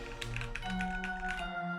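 Quick, soft keystrokes on a mechanical keyboard clatter faintly in a steady run beneath a constant electronic hum, like background noise picked up by a desk microphone during a game.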